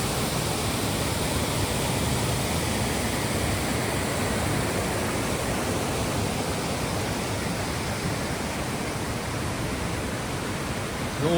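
Janet's Foss pours into a clear pool ringed by mossy banks and trees, producing a constant full-bodied rush of falling water, close and loud with no change in level, and nobody speaking.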